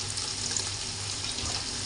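Roasted ground coconut paste for a Kerala mackerel curry poured into a pan over cooked tomato and onion, giving a steady, even sizzling hiss for about two seconds with no voices.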